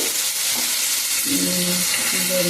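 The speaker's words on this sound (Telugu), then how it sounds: "చక్కగా ఉడుతా ఉన్నాయి టమాటాలు చక్కగా ఉడికినాయి" Green tomatoes cook in a pan with a steady, close hiss of frying, and a soft bubbling simmer rises beneath it partway through; no one speaks.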